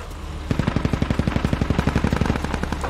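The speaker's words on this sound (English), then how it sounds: "They're still shooting at us." Rapid automatic gunfire from enemies in the military shooter Squad rattles out in a steady burst of about two dozen evenly spaced, loud shots after a short lull.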